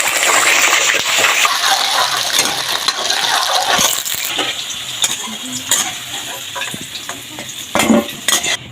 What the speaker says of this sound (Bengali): এবার এভাবে আলুগুলো ভেজে নিব।